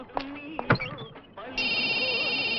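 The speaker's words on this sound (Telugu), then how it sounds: "ఫోన్ సార్, ఫోన్ తీయండి." A telephone rings with a repeating electronic trill that starts partway through and keeps going, following a man's speech and a few brief knocks.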